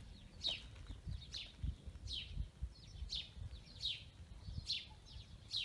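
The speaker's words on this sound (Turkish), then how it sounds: "Sadece şu kuşların seslerini duyabilirsiniz." Birds chirping at Erikli beach during a lightning storm, repeated short high calls about once a second, faint and alone over a low background rumble.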